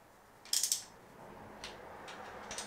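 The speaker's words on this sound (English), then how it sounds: "So this is a 15 millimeter socket." A 15 millimeter socket on a ratchet loosening bolts: a quick close burst of ratcheting clicks, followed by a few softer ticks and faint creaks.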